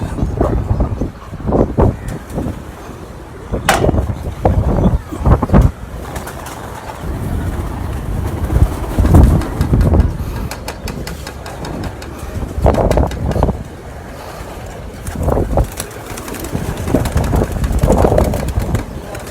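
Pigeons coo and flutter over gusty wind noise, with irregular bursts of bird sound across the whole stretch.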